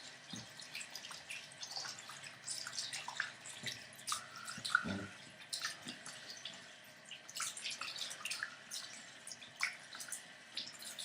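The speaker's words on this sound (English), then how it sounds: "rinse off your hands." Tap water runs and splashes irregularly at a sink as hands are rinsed, a soft, steady patter with scattered drips and spatters close by, without talk.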